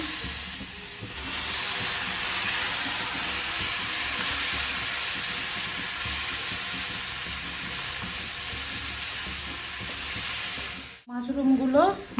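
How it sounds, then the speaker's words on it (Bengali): Mushrooms fry in butter while being stirred, making a loud, steady hiss and sizzle that cuts off abruptly near the end, followed by a brief voice. "ভাজতে থাকবো দেখো ভালো করে নেড়ে নিচ্ছি"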